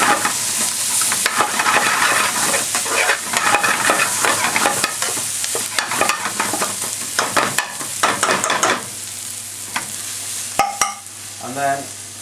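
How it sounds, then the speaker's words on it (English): Garlic and ginger paste fries in a curry pan with a busy, close sizzle, broken by the scraping and clatter of stirring and a few sharper knocks near the end. "A teaspoonful of garlic and ginger paste."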